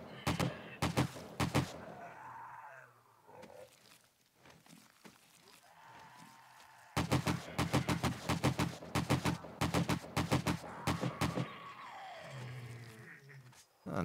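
Loud rapid gunfire bursts in the video game 7 Days to Die, two long strings of quick shots separated by quieter stretches, with a voice talking in between.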